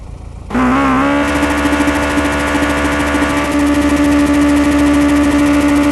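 A Kawasaki Ninja H2R motorcycle engine starts up and settles into a loud, steady running drone with a constant pitch, close by and heard alone for several seconds.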